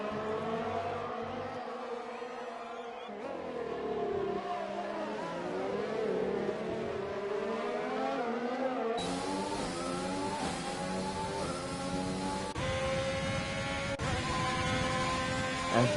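F4 race cars at the Azerbaijan circuit in a video game, high-pitched engines whining and shifting up and down through gears, several cars overlapping as they run close together in slipstream.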